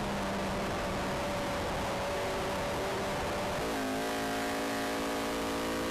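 A Puma race car engine on the Brands Hatch GP Circuit revs hard and steadily, then shifts gear just past halfway, settling into a new tone in the same loud, continuous, close-up drone.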